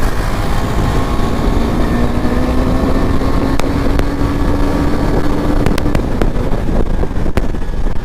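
A KTM Duke 390 motorcycle ridden in the cool early morning gives a steady engine drone whose tone slowly climbs, mixed with constant heavy wind rush across the microphone and a few sharp ticks.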